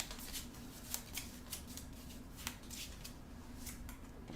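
Playing cards being shuffled back into the deck during a tabletop Marvel Champions card game, a series of quick crisp riffles and snaps heard close and alone, fairly quiet.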